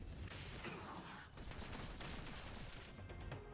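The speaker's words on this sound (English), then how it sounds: "3D explosions." Sustained roar of overlapping explosions from the video game Honkai: Star Rail, loud and dense throughout with rumbling low end and crackling bursts, no talking over it.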